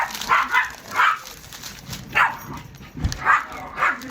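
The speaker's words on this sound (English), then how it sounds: "I'm so sorry about the dogs." Several dogs bark in short bursts spread across a few seconds, fairly close and loud, with a brief whimper-like yip among them and no talking.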